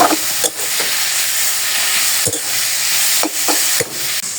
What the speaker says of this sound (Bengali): লবণটা দিয়ে এখন ভালোভাবে শাকটাকে আমি ভাজা ভাজা করে নিব